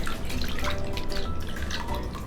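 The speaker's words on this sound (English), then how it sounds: "Then I rinse them again to make sure they're completely clean." Peeled potatoes are rinsed under running water, a steady close splashing and trickling stream that continues throughout without any voices.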